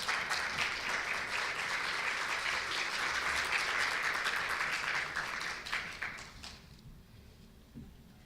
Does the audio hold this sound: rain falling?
no